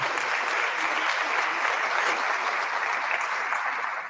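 Audience applause at a Kentucky governor's event, a steady dense clatter of many hands clapping, fairly close and continuous for about four seconds with no talk over it.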